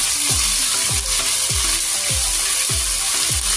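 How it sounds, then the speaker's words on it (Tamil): Tomatoes, herbs and ginger garlic paste sautéing in a pan: a loud, close, continuous sizzle under a regular series of dull knocks and scrapes, roughly one every half second, from stirring. "இதெல்லாத்தையும் நல்லா மிக்ஸ் பண்ணி கொடுப்போம். நல்லா வதங்கட்டுக்கு."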